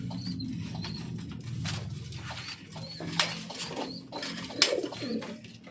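Several racing pigeons coo in low, throaty warbles that roll on steadily, with a few soft flutters and faint chirps nearby.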